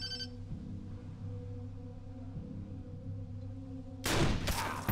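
A gunshot in the video game Wasteland 2 bursts out near the end as a sharp, loud crack with a quick second report, breaking a long stretch of quiet, low background hum.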